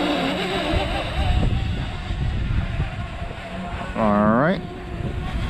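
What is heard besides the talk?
strong wind blowing around flying DJI Mavic Mini drone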